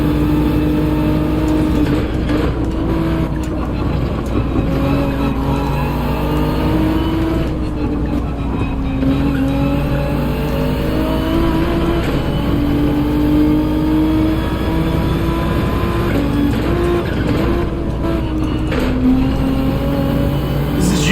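Race car engines rev and whir in Gran Turismo, with a Supra among the cars, shifting continuously up and down in pitch, loud and close throughout.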